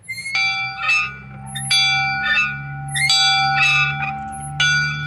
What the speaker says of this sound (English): I just rang the church bell.